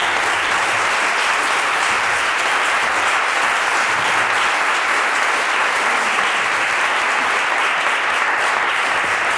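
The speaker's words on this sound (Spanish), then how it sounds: "me gustaría que le diéramos un aplauso grande para que entráramos en calor en el ciclo" Sustained, loud, dense applause fills a hall at the opening of a literary talk series session, a collective round of clapping that holds steady for the full nine seconds.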